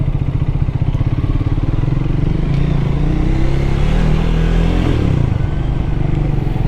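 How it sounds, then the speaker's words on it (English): Triumph Thruxton 400 single-cylinder motorcycle engine revving close by, a loud, continuous pulsing thrum that swells in pitch around the middle before settling back to a steady throb. "So you need to really rev this bike."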